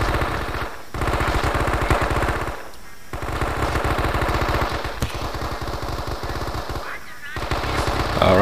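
Sustained machine gun cover fire from the WWII video game Men of Valor, rapid loud bursts with brief pauses around one, three and seven seconds, dense and continuous between them.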